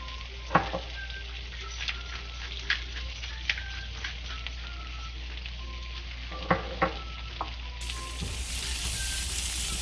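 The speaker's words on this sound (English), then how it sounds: "So let's add the green beans." Green beans sautéing in melted fat in a pan, giving a continuous sizzle with scattered sharp ticks and scrapes from stirring, close up, and a steady low hum beneath.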